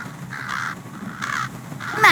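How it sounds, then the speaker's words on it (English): Crows in the Fiction Fixers: The Curse of Oz video game caw repeatedly in rough, raspy calls over a steady background, fairly close, with no talking. "Oh, it's those nasty crows again."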